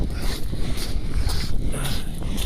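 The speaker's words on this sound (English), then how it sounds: "We've got quite a strong easterly wind today, so sorry about the noise." Steady, heavy easterly wind buffeting the microphone on the coast near Dungeness, Kent, a continuous low rumble with broadband rushing that swells and eases throughout.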